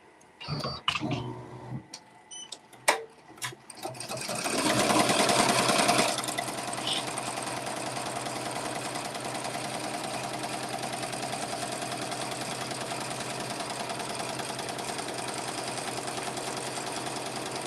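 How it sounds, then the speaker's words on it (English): An embroidery machine stitches a glitter appliqué with a steady, continuous mechanical whir and hum. A few clicks and handling knocks come first, then a brief louder burst before the machine settles into an even run. "we're going to push this green button and it's going to start stitching."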